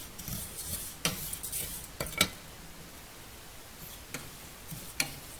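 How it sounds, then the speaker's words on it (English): Dry vermicelli (sevaiya) being stirred and roasted in a pan, giving soft scraping rustles and a few sharp clinks of the utensil against the pan at irregular intervals, fairly faint and close. "We are going to roast it for about 2 to 3 minutes until it's nice and golden brown."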